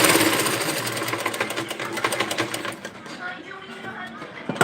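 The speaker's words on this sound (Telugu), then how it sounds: "ఇది లోపలికి ఇలా ఫోల్డింగ్ చేసి ఇక్కడ ఒక స్టిచ్ అయితే వేసేద్దాము" A sewing machine stitches a saree blouse with a fast, steady mechanical whirring and rattling, loud and close, easing near the end. Someone speaks over the machine.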